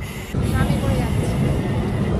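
A Kolkata tram rolls slowly along its rails, giving a steady low rumble close by with a faint high whine over it and no voices.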